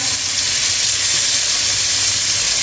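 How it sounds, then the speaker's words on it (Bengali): Garlic and onion hiss and sizzle steadily in hot oil in a pan, a loud, continuous close-up frying sound with no talk. "আর একটুখানি তেল দেব রসুন ছেড়ে দিচ্ছি পেঁয়াজ"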